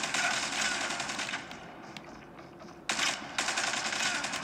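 Rapid automatic gunfire in the mobile shooter Call of Duty Mobile rattles out in two bursts separated by a short lull, crisp and fairly quiet in the mix.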